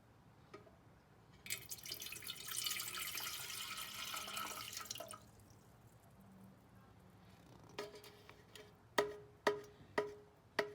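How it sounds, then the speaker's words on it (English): Water poured into the pan of a Cuisinart CBK-110 bread maker, a close, steady splashing pour lasting a few seconds, then quiet drips and a run of sharp knocks and clinks. "First you put in the water."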